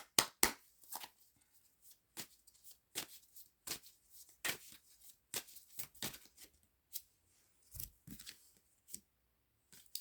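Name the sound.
shuffling tarot cards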